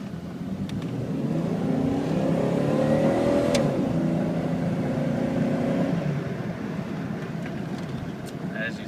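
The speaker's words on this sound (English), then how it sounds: "Do a hard acceleration coming up so you can see it switch gears and engine" An 80k-mile Jeep Cherokee XJ Sport engine pulls hard under acceleration from inside the cabin, rising revs with audible drops as gears shift, swelling loud mid-clip and easing off toward a steadier cruise hum.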